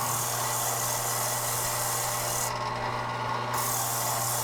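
A wooden segmented ring of flame maple and redheart is sanded flat by hand, making a steady, close, dry rasping rub that continues without a break.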